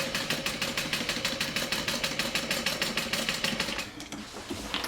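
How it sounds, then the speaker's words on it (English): Sewing machine stitching a curved seam on a Swoon Sierra bag, a rapid, even mechanical chatter close up that runs steadily, then slows and stops near the end. "Go slow on the curve. And try to keep a constant seam allowance"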